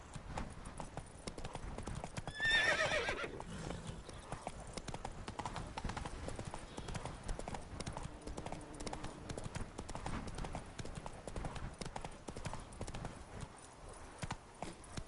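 Roach, a horse in The Witcher 3, gallops with steady rhythmic clip-clop hoofbeats across the whole stretch, and a brief whinny rises near the start over a constant ambient game backdrop.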